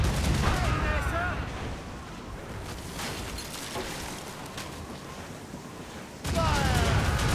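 Naval cannon broadside fire in the video game Assassin's Creed Rogue, a rolling barrage of booming shots and crackling blasts layered with battle noise, loudest at the start and end, with shouting voices mixed in.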